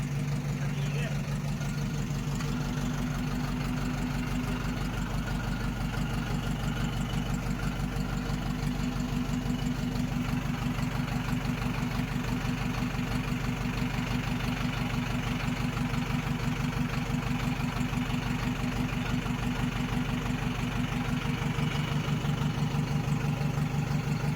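A tractor engine idles steadily in a village during preparations for a Hola Mohalla trip, a loud, even low rumble with a regular rapid beat running throughout.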